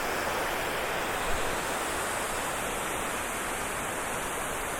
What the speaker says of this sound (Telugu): ఇదిగోండి వాటర్ ఇలా పడిపోతుంది.